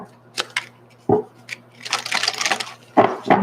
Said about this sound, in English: I'm gonna get a good shuffle.